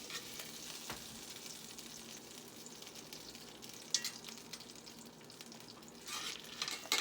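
Butter sizzling in a preheated cast iron pan as it is stirred around, a faint, steady crackle with occasional scrapes of the utensil.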